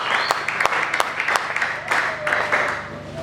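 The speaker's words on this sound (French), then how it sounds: "Donne-moi bien ton acclamation." Church worshippers applaud and cheer, a burst of clapping mixed with crowd voices and shouts, lively and fairly loud.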